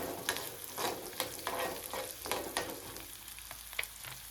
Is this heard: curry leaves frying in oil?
yes